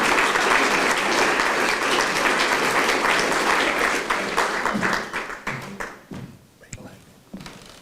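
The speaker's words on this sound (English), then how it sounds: "Let's hear it for Lorraine" A stand-up comedy show audience applauds a comedian being introduced to the stage, a dense roar of clapping with some cheering that fades into scattered claps near the end.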